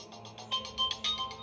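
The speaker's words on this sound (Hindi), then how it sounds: "काफ़ी देर से फ़ोन भी बज रहा है" A mobile phone rings in a drama scene, a soft repeating electronic tone pulsing in short bursts at a low, distant level with no talk over it.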